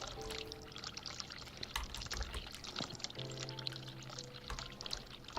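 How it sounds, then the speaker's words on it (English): Hot water running from a tap in The Cat Lady video game, a steady pouring stream with dripping at close range, heard alone with no talk. "I'm gonna leave the hot water tap going."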